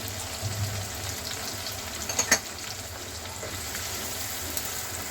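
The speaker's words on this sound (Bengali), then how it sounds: "রসুনটা ভাজা হয়ে গিয়েছে" Garlic paste sizzles steadily in hot oil, a constant close crackle with a brief stir partway through.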